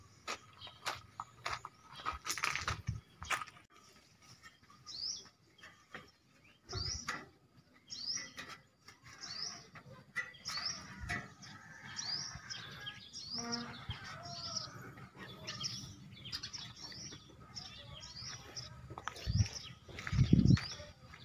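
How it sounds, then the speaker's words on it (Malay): A bird trapped high on a mosque dome gives a run of short, high chirps that repeat steadily for several seconds. Dull knocks and clatter sound nearby, and a heavier thump comes near the end. "Kita coba melepaskan tuh burung"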